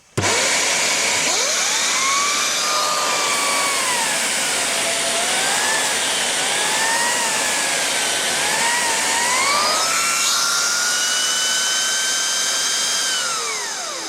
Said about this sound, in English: These turbo heads tend to make a racket